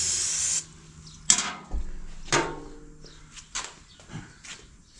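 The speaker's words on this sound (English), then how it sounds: "spray them with a little cooking spray, or your eggs will stick to them." A short burst of aerosol cooking spray hisses up close onto a Blackstone griddle, followed by several light clacks and taps of objects being handled.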